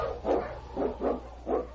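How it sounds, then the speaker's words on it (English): A malamute sled dog in a radio drama barks four times in a steady, evenly spaced series, fairly close and clear over a low background hum. "The Wonder Dog King, swiftest and strongest of Eskimo lead dogs, blazes the trail through storm and snow"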